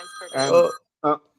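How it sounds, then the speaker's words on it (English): A mobile phone rings briefly in two short bursts, the first longer and louder with a tonal ringtone melody, then a short second burst after a pause, close and clear with no talk over it. "And that was my phone."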